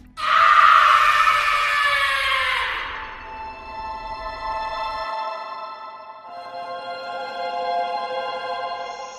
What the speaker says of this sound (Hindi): भोजराज की दर्दनाक चीख उस जंगल में इस तरह गूंजी जैसे कोई हाथी चिंगाड़ रहा हो